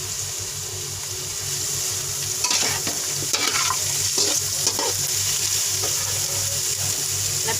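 Paneer vegetable fried rice sizzles in a pan while a spatula stirs and scrapes through it in repeated strokes, the frying hiss running steadily underneath.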